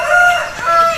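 A lakha aseel rooster, a lac-red fighting breed, crows nearby in a short, loud, drawn-out call with a brief dip in the middle.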